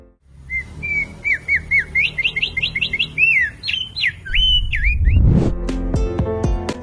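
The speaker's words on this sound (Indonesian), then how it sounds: "Opior paruh tebal, salah satu jenis opior, yang masih satu keluarga dengan burung pleci atau kacamata" Thick-billed white-eye, an Indonesian white-eye endemic to Sumbawa and Flores, sings a bright run of rising and falling whistled phrases, quick and clear, ending as a louder low rumble and rattling noise comes in near the end.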